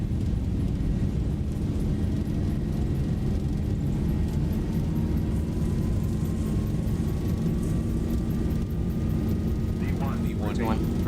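Boeing 737 engines at takeoff power in the X-Plane 11 flight simulator make a dense, continuous roar with a steady low rumble and a slowly rising whine, loud and unbroken throughout, with cockpit callouts spoken over it.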